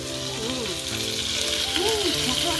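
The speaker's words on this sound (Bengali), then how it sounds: "আমার মা কালো কুচকুচে একটা কড়াইতে মাছ ভাজা বসিয়েছে এটা লোহার কড়াই" Fish fries in a black iron wok with a constant, close crackling sizzle, while faint tonal voice-like sounds drift in the background.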